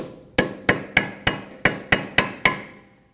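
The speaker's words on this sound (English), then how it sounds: "Using a punch and a hammer, we're going to stake our axle nut." A punch struck with a hammer stakes the axle nut on a 2014-2018 Subaru Forester during rear hub replacement, giving eight sharp metallic strikes at a steady pace, close and loud, with no talk.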